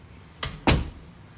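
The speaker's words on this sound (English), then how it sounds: "Now I'm gonna close the door." A bedroom door pushed shut indoors, heard as a light knock followed quickly by a louder close thud, both near and short, with quiet room tone around them and no talking.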